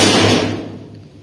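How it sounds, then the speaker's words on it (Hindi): An open stairway door in a village house being buffeted by strong, gusty wind during a sudden storm, a loud continuous rushing roar with a heavy bang that fades out. "ये जीने का दरवाजा खुला है ना, वही आवाज आ रही है।"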